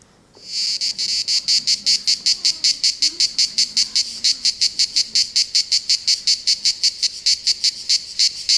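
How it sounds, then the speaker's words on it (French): A Cicada orni sings in summer, a loud close rasping buzz pulsed in fast, even beats, continuing steadily with no break, alone and without voices. "C'est la cigale de l'Orne, c'est une des cigales les plus répandues chez nous en France"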